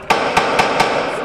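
Gunfire during an attack on riot police in Bayrampaşa, Istanbul, with four sharp reports in quick succession over a steady noisy background, fairly close and loud.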